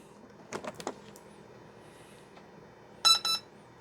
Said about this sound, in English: you're going to be listening for 2 beeps